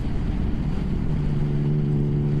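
A motorcycle carrying a pillion passenger rumbles steadily at close range, its low engine drone holding even with a slight rise in pitch near the end, no voices over it.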